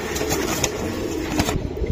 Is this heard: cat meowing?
no